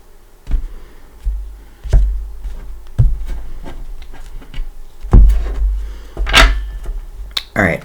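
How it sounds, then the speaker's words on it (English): A tarot deck box lid is brought down with a few close wooden knocks and thuds spaced irregularly, one sharper clack standing out, while a person talks between them. "let's bring the lid down."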